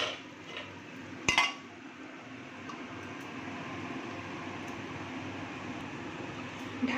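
A lid set down on a cooking pot of motor dal over a medium gas flame, one sharp metallic clink near the start, then a low steady hum of the burner.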